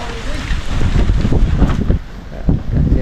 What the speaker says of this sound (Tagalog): walang ulan sa amin dito, hangin lang yung malakas